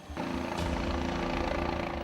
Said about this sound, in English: The Kenya Wildlife Service helicopter had to be brought in to carry the bodies to a more open area.